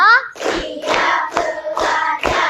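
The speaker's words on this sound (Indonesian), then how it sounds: "Coba tepuk 1, tepuk 2, tepuk 3, tepuk 4, tepuk 5." A classroom of children claps a counted pattern, with sharp group claps landing in a rising sequence of bursts across a couple of seconds, close and fairly loud, and a brief voice at the very start.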